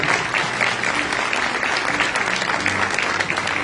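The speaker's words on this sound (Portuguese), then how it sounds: "Dá mais uma salva de palmas para ele." A church congregation claps loudly and steadily in a dense, sustained burst of applause, with a faint murmur of voices underneath.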